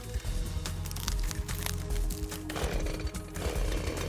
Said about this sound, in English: The woodsman yanks the pull cord on his chainsaw and gets to work cutting the timber down.